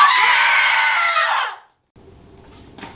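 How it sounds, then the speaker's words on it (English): A person lets out one long, loud, shrill scream lasting about a second and a half, cut off abruptly, followed by quiet room noise and a faint brief sound near the end. "Stop screaming!"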